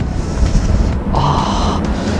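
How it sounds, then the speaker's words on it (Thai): Strong wind buffets a microphone outdoors on a cold day in Japan, producing a loud, continuous low rumble and gusty rush with no talking. "ตอนนี้ลมแรงมาก"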